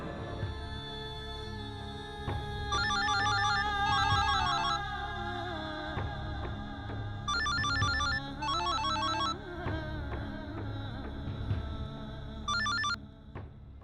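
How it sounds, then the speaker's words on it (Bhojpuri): A phone rings and rings with no one answering, its ringtone coming in three repeated bursts over a steady music bed, with no voices. "तू फोन काहे नहीं उठा रहल बाड़ू?"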